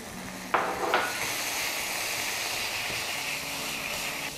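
Minced chicken stir-fried in a pan for mie ayam sizzles with a steady hiss, with a couple of sharp utensil scrapes near the start.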